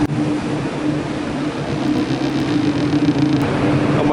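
A race motorcycle laps a track, its engine a loud, continuous mid-pitched roar that holds steady and swells slightly toward the end, close and alone without voices.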